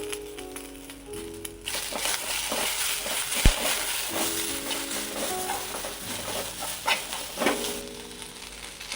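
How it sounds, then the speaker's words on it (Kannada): Drumstick (moringa) leaves fry in a pan of browned ingredients for a chutney, giving a loud, steady sizzle and crackle with occasional stirring scrapes, close and continuous throughout. "ಈಗ ನಾವು ಒಂದಿಷ್ಟು ನುಗ್ಗೆ ಸೊಪ್ಪುಗಳನ್ನು ಅದಕ್ಕೆ ಹಾಕ್ಕೊಂಡು ಫ್ರೈ ಮಾಡ್ಕೊಳ್ಳೋಣ."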